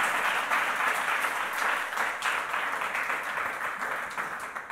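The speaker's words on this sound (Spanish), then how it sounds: "Vamos a aplaudirles porque es que lo han ganado a pulso" Sustained audience applause after a round-table panel on the future of employment, a dense, even wash of clapping heard from a distance that holds steady throughout.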